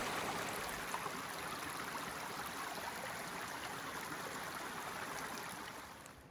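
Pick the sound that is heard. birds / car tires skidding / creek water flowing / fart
creek water flowing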